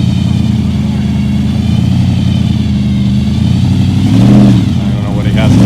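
A dragster Corvette's big engine rumbles loudly and steadily, swelling briefly near the end as it passes, while people talk over it.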